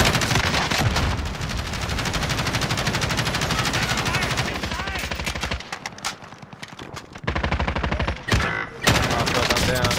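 Rapid automatic gunfire in Call of Duty: Warzone fills most of the stretch, loud and dense, with short gaps and bursts of shots near the end.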